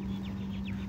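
Short, repeated pigeon calls in a quick series over a steady low hum, the calls rising and falling at a moderate distance.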